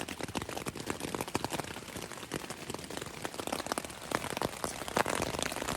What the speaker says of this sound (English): rain's getting heavier, but it's kind of going in and out